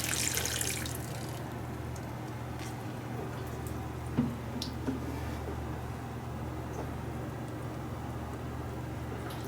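Water poured into a potted Meiwa kumquat citrus tree soaks and drains through a 511 bark mixture, a steady soft trickle and splash running throughout with a couple of faint knocks.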